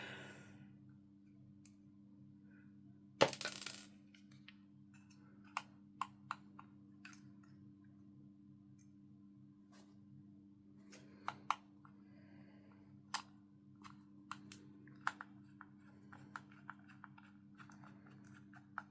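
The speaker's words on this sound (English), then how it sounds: "Now it's just removing these two screws in the back." Small screws being undone from the back of a model locomotive tender (Swanage 34105) during a DCC sound and smoke install: scattered faint clicks and ticks over a steady low hum, with one sharper clatter early on.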